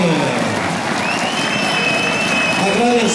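A crowd applauds and cheers at a political event in São Paulo featuring a politician, a loud, dense wash of clapping under a voice speaking through the applause.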